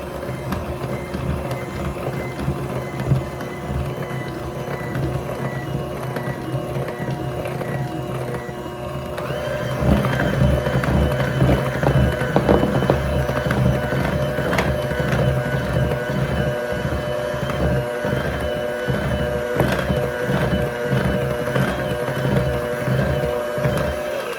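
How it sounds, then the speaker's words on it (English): A steady mechanical motor whir runs throughout while batter for cranberry bliss bars is mixed, growing slightly louder and busier partway through, with light clattering over the constant drone. "And then we're just going to give this a little mix."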